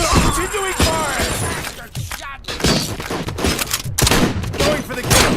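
Rapid bursts of gunfire in the RoboCop: Rogue City video game, loud and close, with sharp impacts and shattering debris while a voice speaks over the shooting.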